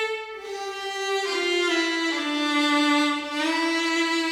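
The melody of the NieR Re[in]carnation soundtrack plays alone on strings, a slow legato line of sustained, smoothly connected notes, close and even in volume with no talking.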